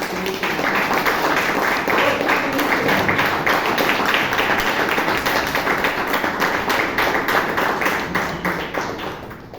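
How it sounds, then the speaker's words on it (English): Applause fills a room at a Bangalore Toastmasters meeting, a loud, close, continuous patter of many hands with a thin high whine running above it. "Can we have a huge round of applause for Toastmasters?"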